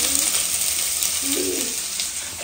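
Chopped onions sizzle in hot oil in a pan, a steady close crackle and hiss with no talking.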